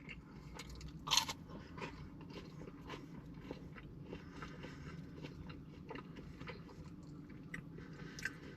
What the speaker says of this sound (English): the pizza base is crunchy but chewy